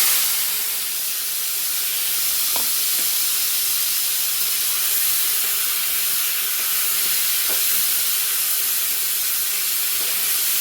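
Chopped tomatoes hit a frying pan with raisins for tomato chutney, making a loud, steady sizzling hiss that runs unbroken throughout, with no talking.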